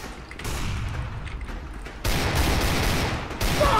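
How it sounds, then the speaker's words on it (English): Sustained automatic gunfire in Counter-Strike: Global Offensive, loud and continuous, bursting louder partway through with dense overlapping shots and no pauses. "Stop shooting!"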